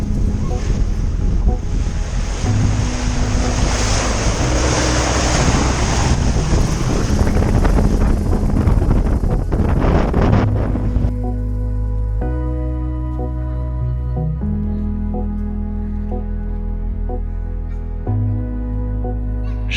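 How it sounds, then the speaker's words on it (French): The sailboat Antarctique cruises at 8 to 10 knots, giving a steady loud rush of wind and water that later thins to a lower hull hum with a few tonal engine-like lines. "Voilà Antarctique filant à sa vitesse de croisière,"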